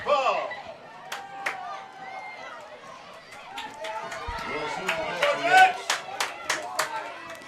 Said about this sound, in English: the crowd's starting to get loud